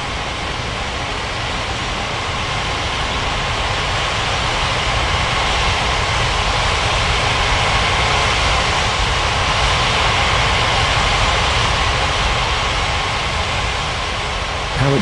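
Jet airliners taxiing at an island airport in the game Unmatched Air Traffic Control make a steady, loud, droning engine roar with broad hiss that holds nearly constant for about fifteen seconds, with no talk.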